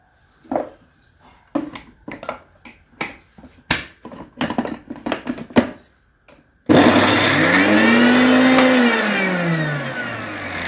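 A kitchen mixer grinder starts up loudly partway through and whirs steadily as it grinds soaked soya meal maker chunks, preceded by a series of scattered clicks and knocks.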